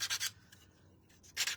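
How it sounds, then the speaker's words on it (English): Sandpaper rubbing along the edges of a painted piece, a few brief soft scraping strokes at the start and end with quiet pauses between. "I'm gonna go ahead and sand this down."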